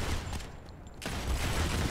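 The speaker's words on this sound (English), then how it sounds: "People are firing over here." Gunfire from the mobile shooter Modern Combat 5 comes as a dense rapid burst of shots, briefly drops out, then resumes in another loud continuous volley.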